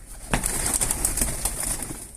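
Pigeons in a loft, recorded close up, with a sudden burst of flapping wings followed by a flurry of rustling wingbeats and soft cooing. The flurry fades over about two seconds.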